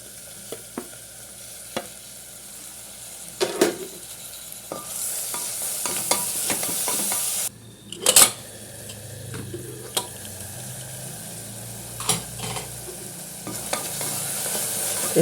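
Tomatoes with ginger, garlic and green chilli frying in a pan for a beef and potato curry, giving a steady close sizzle with occasional stirring scrapes and clinks.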